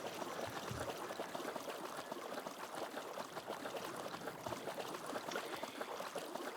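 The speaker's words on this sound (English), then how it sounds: "Why am I hearing so much water?" Steady flowing water in Farming Simulator 22, a continuous broadband rush like a stream or pouring tap, moderately loud and even throughout with no talk.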